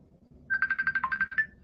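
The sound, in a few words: telephone ringing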